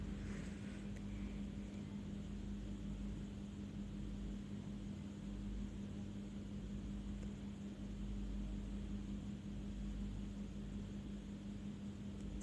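Beef mince for aloo keema fries on a medium flame in a steady, even, hissing sizzle that holds constant and fairly close with no breaks.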